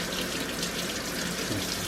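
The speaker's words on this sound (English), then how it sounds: "I like my hot water comes out of my sink hotter than I can stand it" A kitchen sink tap runs hot water in a continuous, even stream, close and fairly loud, with no voices over the rushing flow.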